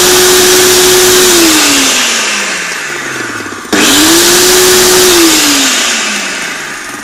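A blender struggles with thick ice cream for an Oreo shake, its loud motor whine sagging and dropping in pitch as it bogs down, then cutting out and restarting to rise and slow again, with no talking.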